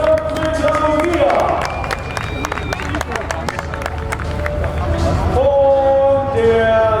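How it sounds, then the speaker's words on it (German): A crowd claps and cheers steadily at a competition final, with sharp scattered hand claps over a sustained roar and a voice carrying through. "Einen riesen Applaus"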